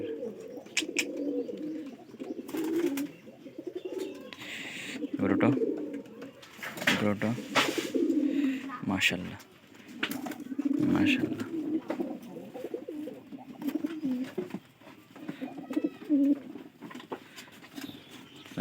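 Rajshahi Giribaz pigeons coo in repeated low, throaty phrases at close range, with wing flutters and cage patter, and someone talks intermittently over them.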